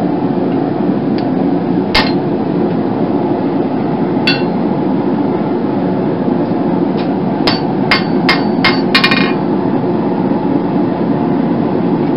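Sharp metallic hammer strikes on a touch mark stamp, marking a forged tomahawk, ring out over a loud, constant machine drone, a few spaced hits then a quick cluster of blows near the end.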